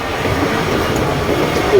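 Steady rumbling train noise, a continuous broadband roar of a rail car in motion with no voices.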